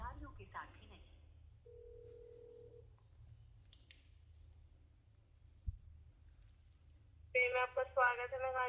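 Phone call to PhonePe customer care connecting: faint electronic blips, a steady held tone, a brief click, then a recorded voice starts near the end over a low line hum.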